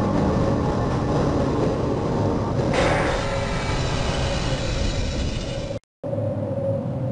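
A tram train rolling along its track in the video game Half-Life gives off a loud, steady mechanical rumble that holds throughout, with a brief dropout near the end before it resumes.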